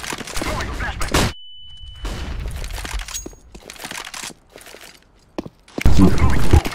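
A flashbang grenade is thrown during a multiplayer shooter match, a sharp crack and burst of gunfire-like noise standing out among game effects and footsteps, with a loud burst near the end and people talking at times.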